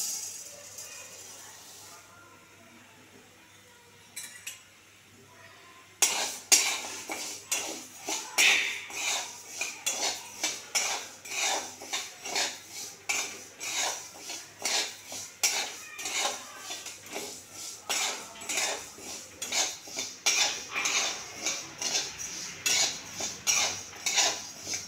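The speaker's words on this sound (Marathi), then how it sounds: "ही काळ्या पाठीची डाळ आहे आणि आता मी ती गुलाबी रंगावरती भाजून घेणार आहे" Black urad dal dry-roasting in a pan, with quiet rhythmic scraping and clinking of a spatula stirring the lentils, starting after a near-silent opening and continuing in quick repeated strokes.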